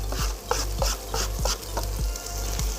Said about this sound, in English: So I'm looking to get my onions caramelized slightly, which is happening now.